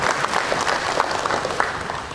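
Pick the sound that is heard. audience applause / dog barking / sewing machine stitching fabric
audience applause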